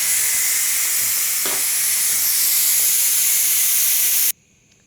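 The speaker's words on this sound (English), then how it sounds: "I'm gonna release the pressure." Steady, loud hiss of steam venting from a Ninja Foodi pressure cooker during a pressure release after cooking chuck steak with cabbage and potatoes, continuous for several seconds before cutting off abruptly into near silence.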